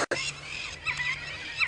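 Shrill, squealing bird calls repeat in overlapping bursts over a low steady vehicle hum on an African safari drive, sounding agitated and fairly close.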